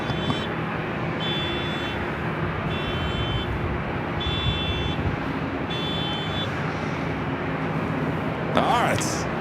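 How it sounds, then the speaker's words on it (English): A car alarm sounding near a busy airport, repeating short high-pitched electronic tone bursts at a steady rhythm over constant roadway and aircraft rumble, with a brief louder noise at the end. "the most annoying car alarm I think I've ever heard"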